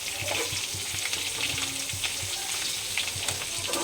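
Cauliflower and potato frying in a pan, a steady close sizzle of hot oil with soft scraping and stirring knocks repeating through it, no voices.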